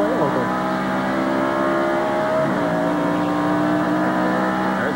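Stock cars from the 1993 NASCAR road race at Watkins Glen roar continuously at close range, engines droning and shifting pitch as they run nose to tail, with no talk over them.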